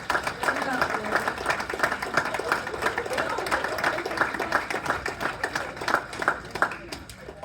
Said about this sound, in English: Stand up and give them a clap